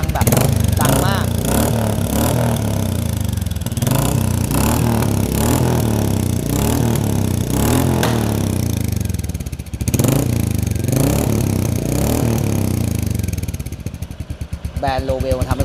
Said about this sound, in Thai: อันนี้ฟังแบบใส่จุ๊บอุดเสียงก่อนนะครับ